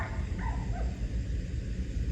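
A dog off its leash gives a few short yips and whimpering barks, moderately loud and close, over a steady low background rumble, with no speech.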